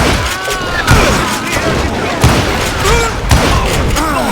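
Rapid gunfire and booming shots ring out in the Western shooter Call of Juarez: Gunslinger, with repeated loud thumps over a dense, busy game soundscape and overlapping effects throughout.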